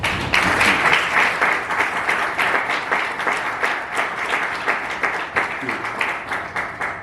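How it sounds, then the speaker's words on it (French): A room full of people at a book presentation applauds loudly, a close, dense, steady roar of clapping that holds for the whole stretch with only slight swells. "je souhaiterais qu'on applaudisse très fort"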